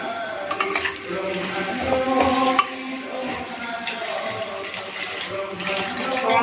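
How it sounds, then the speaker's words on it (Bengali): Water poured into a pot of ghee-coated rice for pulao, a continuous splashing gush with faint clinks of the pot, set against a busy background of distant music. "এই যে জল দিয়ে দিলাম"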